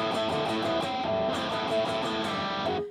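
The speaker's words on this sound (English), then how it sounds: "And this is a great riff to learn palm muting, because if you don't palm mute that, it sounds like this." Electric guitar riff played unmuted, ringing open and sustained with a distorted tone, a steady run of repeated picked notes over about three seconds, close and loud with no talking.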